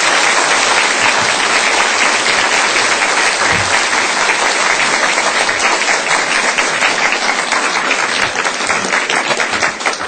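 Steady, dense applause from a large church audience, loud and sustained throughout without pause.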